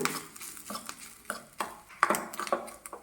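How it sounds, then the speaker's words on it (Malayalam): Grated coconut being stirred and fried in a pan until brown, with soft scraping strokes at an irregular rhythm and a faint sizzle underneath, close by. "തേങ്ങ ബ്രൗൺ നിറം ആവുന്നതുവരെ വറുത്തെടുക്കണം"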